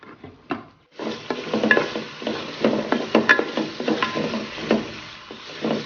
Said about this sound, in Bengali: তো এদিকে নুডলসটা করে নেওয়ার জন্য আমি পেঁয়াজ আর তেলের উপর ভেজে নিচ্ছি।